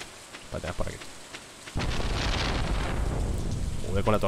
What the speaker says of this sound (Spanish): Joder con la tormenta, tío.